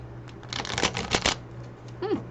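Tarot cards riffle-shuffled in a few quick bursts, crisp flapping and fluttering up close, with a brief faint vocal sound near the end.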